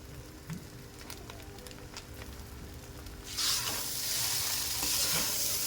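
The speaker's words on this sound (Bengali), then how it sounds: "দেখুন 10 থেকে 15 মিনিট ভেজে নিয়েছি।" Chow mein noodles stir-frying in a hot pan: a steady, close sizzle that swells louder partway through and then holds, with occasional scraping stirs and no talking.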